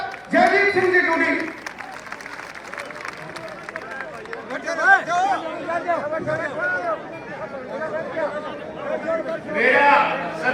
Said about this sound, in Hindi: जोरदार तालियों के साथ जयदीप सिंह जी टूडी